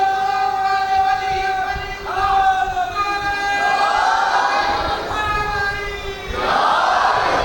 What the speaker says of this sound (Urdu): تسی سینکڑوں دی تعداد ہے جو یا علی، یا علی کا نام اونچی آواز میں لو